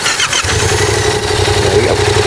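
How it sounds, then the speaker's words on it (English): A 2014 Yamaha MT-07 motorcycle engine fires up and runs loudly and close by, with a rough, throbbing idle that stays steady. "Anyway, starting it up. Just pull this start stop down."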